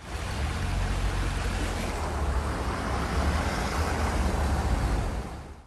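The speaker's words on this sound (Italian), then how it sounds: "alcune vie sono state completamente allagate, trasformate in fiumi in piena" Floodwater rushing through streets turned into torrents during severe weather, a loud and dense continuous roar of churning water that stays steady throughout, with no voices.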